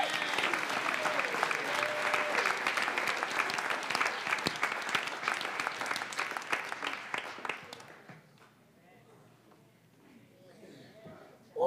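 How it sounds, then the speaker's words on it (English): An audience claps loudly and steadily for a children's Black History performance, sustained applause with scattered cheers that cuts off after about eight seconds, leaving a quiet room with faint murmuring. "let's give our children one more hand clap of praise"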